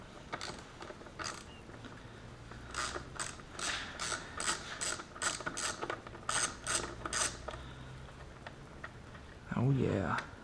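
A hand ratchet tightens a battery tender mount for a 12-volt DC socket. It clicks in rapid bursts of pawl ticks and short cranking runs, close up, with a brief creak and a handling noise near the end. No one speaks.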